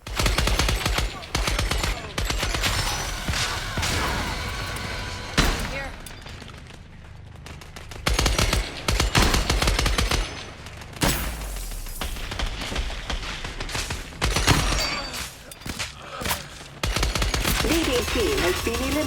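Bursts of rapid gunfire and heavy shots in the video game Scavengers, including a sniper firing, come in loud, clustered volleys separated by quieter gaps, with occasional booms.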